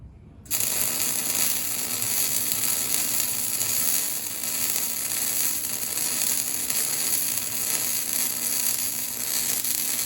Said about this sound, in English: Do some more welding.